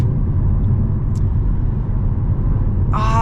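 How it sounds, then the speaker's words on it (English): A 2025 BMW M135's exhaust burbles as the throttle is lifted, a steady deep rumble heard from inside the car, with a brief higher rasp near the end. "I'm like lifting off the gas and the exhausts are burbling"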